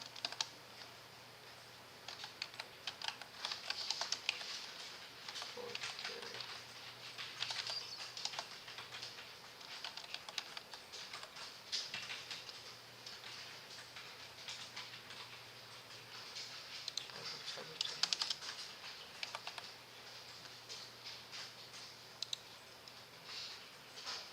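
Typing on a computer keyboard while entering text in an InDesign layout, a steady patter of soft clicks and key taps running throughout at close range with no talking.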